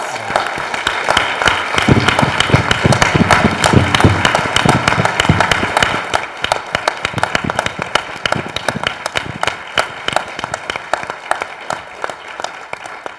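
Sustained loud applause from a large crowd, dense steady clapping that continues throughout and eases slightly toward the end.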